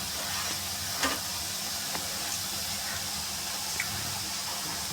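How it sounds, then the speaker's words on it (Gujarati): Chakli spirals made from mixed flour dough frying in very hot oil, giving a steady, moderate sizzle with a few faint clinks, no voices. "ચકરી તળાઈ રહી છે."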